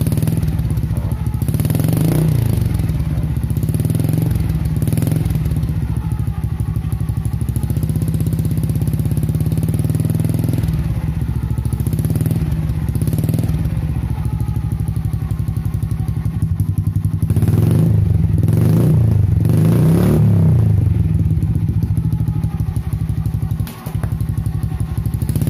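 A motorcycle with an open exhaust pipe silenced using a rubber insert idles with a low, muffled thump and is revved several times in short bursts, close and steady throughout.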